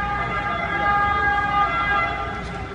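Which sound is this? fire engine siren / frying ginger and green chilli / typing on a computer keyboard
fire engine siren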